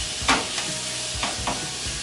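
Steak and fried rice ingredients sizzle in a pan over medium heat, a close, continuous frying hiss broken by a few sharp scrapes and stirs of the spatula.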